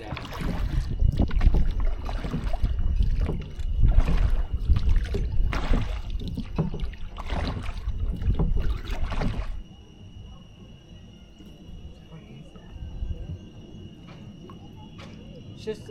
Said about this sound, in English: Gary's final row for Triteia support